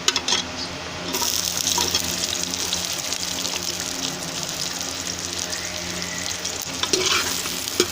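Onions frying in a hot pan, browning for a rawain ki phaliya (broad bean) dish: a steady loud sizzle with a spoon stirring and scraping throughout, no talk.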